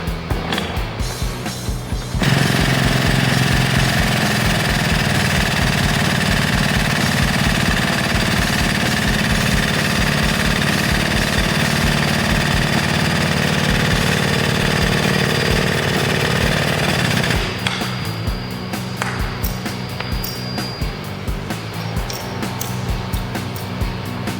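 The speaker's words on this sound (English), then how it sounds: "now we've got the hydraulic on there and we'll remove it" A Tiger Tool 15040 hydraulic puller drives out an Intraax bushing: a loud, continuous mechanical rattling drone with rapid pulsing runs for about fifteen seconds, then cuts to a quieter rattle.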